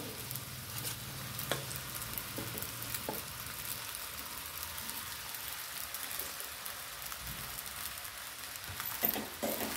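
Sabudana khichdi mixed with peanut powder is stirred in a pan, giving a faint, continuous sizzle with soft scraping and light crackle throughout.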